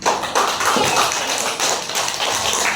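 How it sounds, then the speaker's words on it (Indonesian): A classroom of students gives a round of applause, with many hands clapping together in a dense, continuous patter that stays fairly loud and even for nearly three seconds. "Nah, kita beri aplaus untuk Lulu ya."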